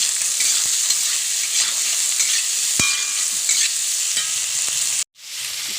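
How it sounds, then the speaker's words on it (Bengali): Potatoes with salt and turmeric fry in a pan with a steady, close sizzle. Brief clinks of stirring break through the sizzle, and it cuts off abruptly near the end. "দিয়ে আমি এটা লাল লাল করে ভেজে নেব"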